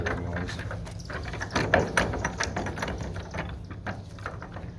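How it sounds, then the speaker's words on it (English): Ratchet socket tightening a 1 9/16 nut on a clutch during reassembly, a steady run of close, rapid clicking strokes at moderate level with no voices. "Your 1 9/16 nut, throw that sucker on there. Grab your socket that you made"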